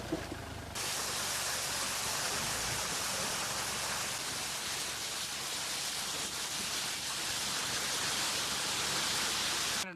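Heavy rain and a nearby waterfall make a dense, steady rush of broadband hiss that runs unbroken the whole way, fairly close and even, with no voices.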